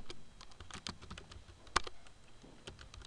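Rapid, irregular clicking of keys on a computer keyboard while HTML code is typed, close and fairly quiet, with one sharper keystroke standing out and no talk.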